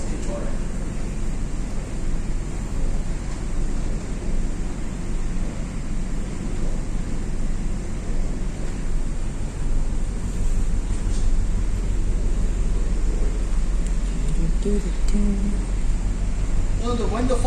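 Strong wind of about 33 knots roars steadily over a ship's deck in the North Atlantic, a loud continuous low rumble and buffeting on the microphone, with people talking throughout.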